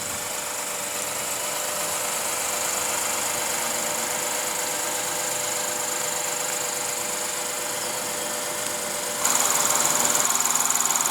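A 2008 Lexus GS350's 3.5-liter V6 idles steadily as a broadband engine hum, with a brighter, louder shift near the end.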